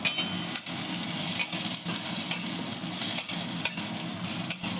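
Onions frying with goat meat in a pan, a loud, dense sizzle with rhythmic scraping strokes of a spatula about twice a second, close up and without speech.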